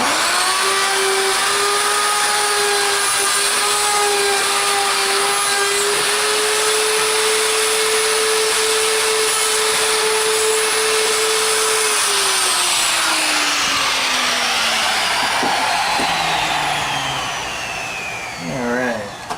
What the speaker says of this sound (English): get my safety glasses on here and bore this out